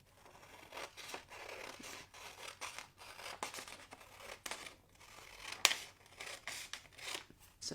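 Scissors cut a paper tangram template into pieces, with a quick run of soft crisp snips and rustles that are faint and close, and no speech.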